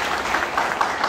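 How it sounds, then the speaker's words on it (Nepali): A congregation breaks into a short burst of dense clapping during a Christian worship gathering praising God, steady and fairly loud throughout with no pauses. "ताली"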